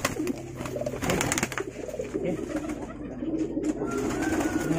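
Javanese pigeons with curled whiskers, kept in a loft, coo steadily in low repeated phrases, close and fairly loud, with no speech over them.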